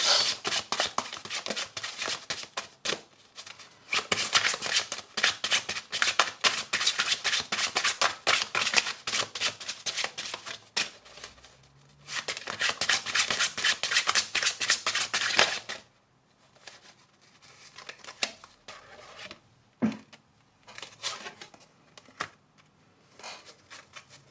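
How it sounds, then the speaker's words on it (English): A tarot deck is shuffled with dense, rapid papery riffling in two long bursts, then a few soft, quieter card slides and taps, with no talking. "now let's grab 3 cards for the Jane Austen love tarot deck"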